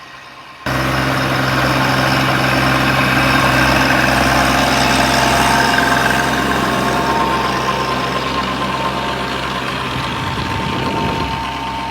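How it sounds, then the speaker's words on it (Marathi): A small Kubota tractor engine starts up abruptly and then runs at a steady, loud, low idle-like rumble while cutting furrows in a farm field, with the tone easing slightly toward the end. "छोट्या ट्रॅक्टरचा वापर आपण कुबोटाचा सरी पाडायसाठी करायला लागलो"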